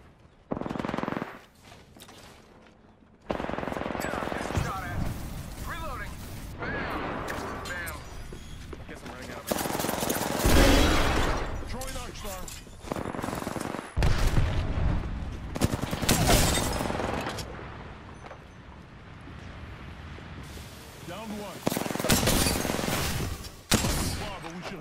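Gunfire in the battle royale shooter Apex Legends, with dense bursts of rapid automatic fire and single shots coming in waves and pauses across the whole stretch, loud and close, mixed with game effects and spoken callouts.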